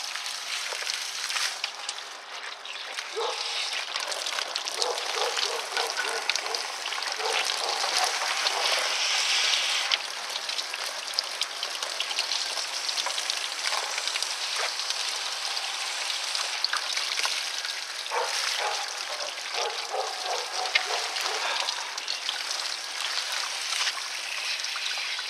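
Water from a garden hose rushes and splashes steadily into a bucket while flushing the heater core of a Ford Expedition, a continuous hissing spray with occasional spattering and no talk.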